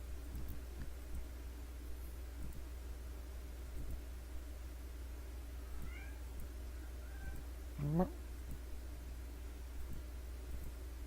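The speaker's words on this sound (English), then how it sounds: "My cat started meowing" A pet cat gives a couple of short, faint meows, one near the middle and a clearer rising one shortly after, over a low steady hum in a quiet room.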